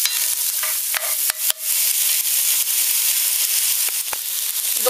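Onion and garlic sweating in a pan with a steady, close sizzle and occasional light stirring clicks, carrot and celery about to join; a continuous hiss throughout with no talking.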